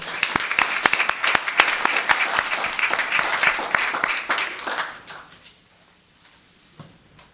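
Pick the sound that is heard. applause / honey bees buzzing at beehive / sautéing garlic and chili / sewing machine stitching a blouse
applause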